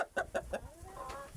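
A young rooster with an injured leg crowing close by: four short clucking notes in a quick even rhythm, then a rising, wavering crow-like call trailing off, fairly faint.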